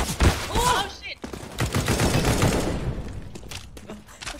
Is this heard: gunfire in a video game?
yes